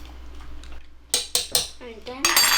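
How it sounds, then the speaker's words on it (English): Bissap being stirred in a pot: a few sharp metallic clinks and scrapes of a utensil against the pot, close and loud, with brief voices murmuring in between. "and then you just stir it in."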